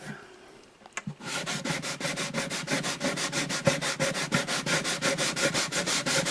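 Steady back-and-forth rasping of sandpaper lightly on a wooden guitar bridge, quick regular strokes continuing close up after a brief knock at the start.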